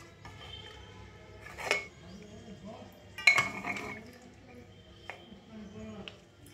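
Mutton pieces are lifted out of a pot of stock for yakhni pulao, with a few sharp metal utensil clinks, two of them prominent, over quiet kitchen background and faint voices.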